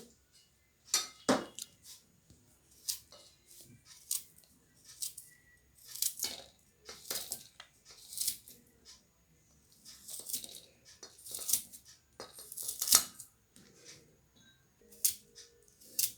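A knife slicing mango ginger into round slices on a board, a series of crisp, irregular chops and taps, close and fairly quiet, with short pauses between cuts.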